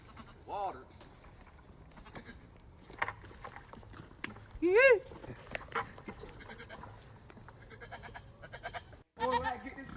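Goats bleat in a farm setting, a few wavering cries near the start, a louder one in the middle and more at the end, with people talking around them.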